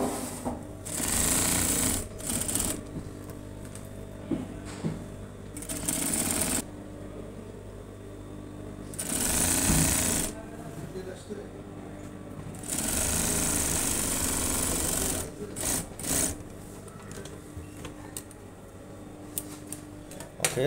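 A garment sewing machine stitches the button placket of a long-sleeved shirt, running in several bursts of rapid mechanical whirring separated by short stops and fabric handling, close and loud.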